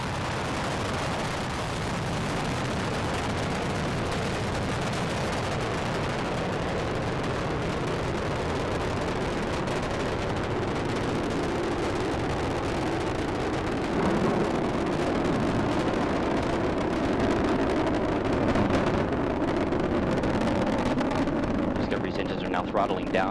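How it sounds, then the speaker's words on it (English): Space Shuttle Discovery lifting off on the STS-133 launch, a broad, dense roar that holds steady and grows slightly heavier later, with a commentator talking over it. "The shuttle has cleared the tower."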